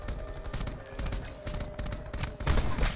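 Rapid gunfire from a multiplayer shooter match, including a light machine gun, rattles in dense continuous bursts with sharp thumps, growing louder and heavier near the end.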